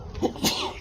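A single short, abrupt sneeze from a person indoors, close and fairly loud, lasting under a second.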